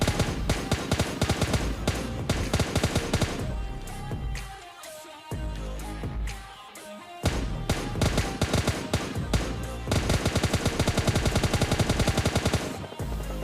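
Rapid bursts of automatic gunfire in the battle royale game PUBG, dense loud volleys with a brief lull in the middle, then renewed sustained firing with distant shots mixed in.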